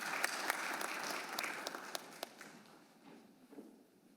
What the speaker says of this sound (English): You all, if you would like to applaud when she walks up.